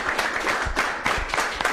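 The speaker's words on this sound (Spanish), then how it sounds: "Cerramos este segundo conversatorio con un aplauso" Closing applause from the audience at a panel discussion on cultural heritage in Cusco, a thick, close burst of clapping with a few heavier thumps that carries on evenly for under two seconds.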